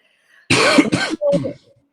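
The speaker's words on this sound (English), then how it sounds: "Oh, I just coughed." Two harsh coughs in quick succession, close and loud, followed by a rougher throat-clearing burst, then quiet.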